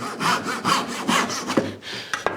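A small piece of walnut is cut with a hand saw in a woodworking shop, with about six steady back-and-forth rasping strokes heard up close before a few light knocks at the end.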